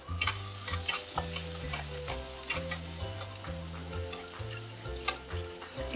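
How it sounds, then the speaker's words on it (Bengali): Chicken pieces fry gently in masala for a Khandesi-style Maharashtrian chicken curry, giving a steady close sizzle with occasional sharp stirring clicks. A melodic backing tune with a stepping bass line runs underneath throughout, and no one speaks. "হালকা হালকা ফ্রাই হবে, চিকেন দিয়ে দেবো"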